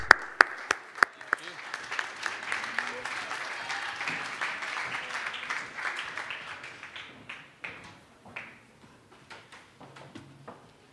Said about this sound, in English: Let's give a round of applause for the Denver Center for International Studies